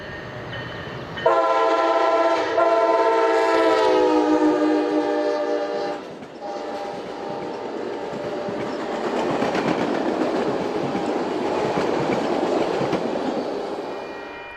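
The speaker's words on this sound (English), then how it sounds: "Amtrak Train 313 heads out of town for Kansas City" Amtrak Train 313, led by a new Siemens SC-44 Charger locomotive on the River Runner route in central Missouri, sounds a loud chorded horn for several seconds, then rolls past with a steady roar and rumbling wheel noise.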